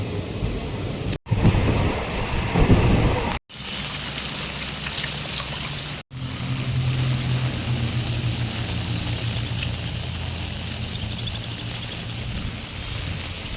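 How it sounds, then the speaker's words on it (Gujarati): Heavy rain falls in the morning after an all-night downpour, making a steady, dense hiss that runs without a break apart from a few brief cuts. "વરસાદ જબ્બર પડે છે, બહુ જ પડે છે રાતનો."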